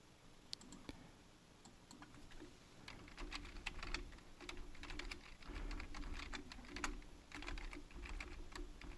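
Someone types a password on a computer keyboard, a steady stream of quick, light key clicks for about nine seconds, faint and close against a soft background hum, with no voices.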